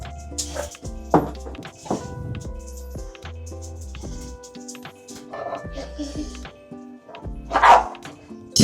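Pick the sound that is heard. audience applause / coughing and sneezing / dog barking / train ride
dog barking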